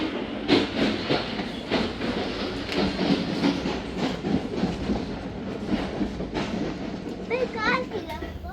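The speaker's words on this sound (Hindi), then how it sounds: "ज़िक्रिया एक्सप्रेस रवाना हुई है मीरपुर माथेलो रेलवे स्टेशन से" Zakariya Express passenger train pulling out of Mirpur Mathelo railway station at night, a steady rumbling clatter of rolling coaches heard from on board, with children's voices and chatter over it.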